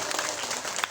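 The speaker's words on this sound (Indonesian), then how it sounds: "Tepuk tangan dulu buat majelis ibu-ibu." A women's congregation claps at a religious lecture, a short burst of fairly soft, scattered applause with a few distinct hand claps.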